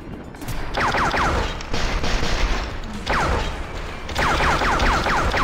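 Rapid automatic gunfire from a video game gun in Maximum Action rattles loud and near in several sustained bursts, with brief pauses and mechanical clatter between volleys.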